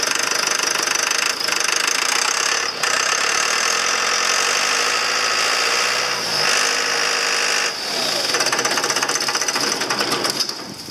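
A 6200 tractor's diesel engine runs steadily at close range with a dense, rattly knock, loud and continuous, with a brief dip near the end as it is shut off.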